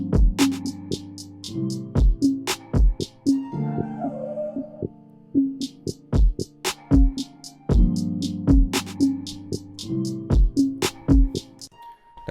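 Percussion pattern built in Ableton with an arpeggiator set to random, stretched notes scattered across a bar: sharp clicky hits and pitched tonal blips in an irregular, looping groove, loud and alone with no voices.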